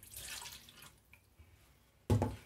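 Water poured into a glass for making a chocolate sauce: a splashy pour in the first second, a quiet stretch, then a sharp, louder burst near the end, with no talking.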